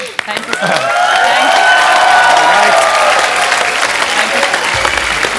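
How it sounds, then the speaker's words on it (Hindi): A studio audience on a comedy talk show gives loud, sustained applause and cheers for Saina, a thick roar of clapping that swells early and holds steady, with a voice faintly heard beneath it. "एक बार जोरदार तालियां हो जाएं, जोरदार"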